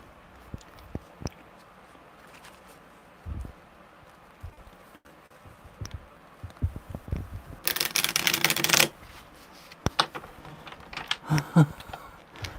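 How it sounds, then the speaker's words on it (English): Tarot cards shuffled once more: scattered taps and handling clicks, then a single sustained riffle of the deck lasting about a second, followed by more light card handling nearby. "One more shuffle."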